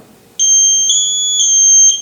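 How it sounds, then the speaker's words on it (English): MSA G1 gas detector in pre-alarm, a loud, piercing two-tone electronic beep that pulses steadily in long sustained tones, close up and alone. "So I'm going to let it go into pre-alarm."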